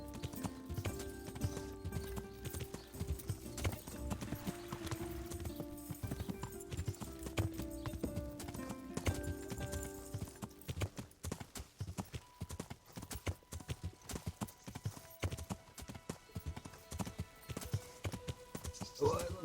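Horse hooves clip-clop at a steady walking rhythm in the medieval Bohemian game Kingdom Come: Deliverance, layered over soft ambient game music.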